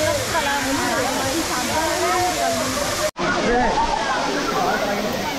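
Gandahati waterfall roars steadily and loudly in a constant broadband rush, with a person talking over it. A brief cut interrupts it partway through before the same roar resumes.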